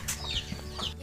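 A chicken in a rural provincial setting gives a short burst of soft clucks, close and clear over steady background noise, lasting about a second.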